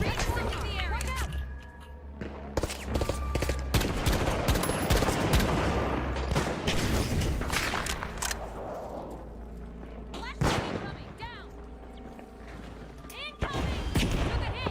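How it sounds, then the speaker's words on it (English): Gunfire and grenade blasts from the video game The Finals, with dense bursts of shooting and sharp explosive hits through most of the stretch. Players talk over the shooting. "A lot of grenades they're throwing at us."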